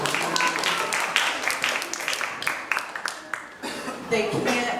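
Audience clapping at a community gathering, a steady patter of many hands with scattered cheers and voices mixed in, moderately loud and continuous.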